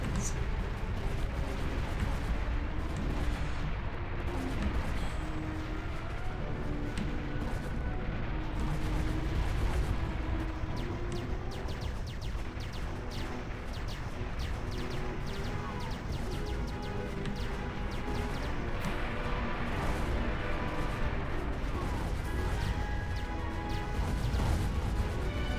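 Missiles explode during a space fleet battle in Gratuitous Space Battles: a continuous barrage of crashing, booming impacts, steady and dense throughout, with people talking over it.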